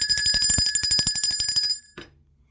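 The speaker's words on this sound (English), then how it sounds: "Let's ring the bell for that." A bell is rung in a rapid run of about twenty bright metallic strikes, each with a ringing overtone, then stops abruptly and leaves a short fading tail and quiet.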